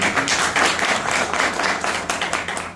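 An audience at an award ceremony applauds in dense, continuous clapping that holds steady for the whole stretch, with no voices over it.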